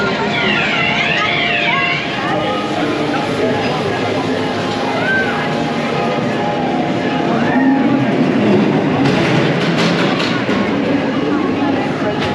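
Ghost train ride cars at Blackpool Pleasure Beach rumble and clatter along a track with a steady rolling roar, warbling electronic effects and echoing noises layered over it.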